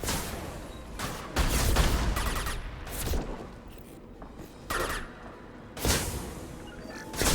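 A rifle fires in the Mass Effect 2 shooter, several hard bursts and single cracks, some close and heavy, separated by brief lulls of softer combat noise.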